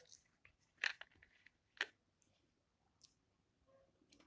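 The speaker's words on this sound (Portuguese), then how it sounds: "Enquanto alguém acho que está digitando" Someone types on a computer keyboard during an online meeting, giving quiet scattered key clicks with a few sharper taps, faint and at a distance.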